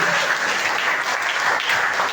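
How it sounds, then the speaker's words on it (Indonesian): A church congregation at an evangelistic worship service claps together in a brief, dense, even burst of applause, loud and continuous throughout. "Beri tepuk tangan buat teman-teman kita"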